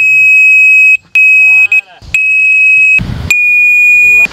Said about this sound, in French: Je n'aime pas du tout la sonnerie.